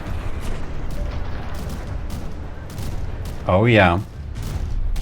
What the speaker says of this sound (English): now the secondary cram barrage is popping in here